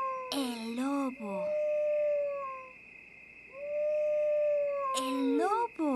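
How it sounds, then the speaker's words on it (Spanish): A wolf howls twice in a children's TV episode, two long rising and falling cries heard up close, with a voice speaking briefly before and after them. "El lobo."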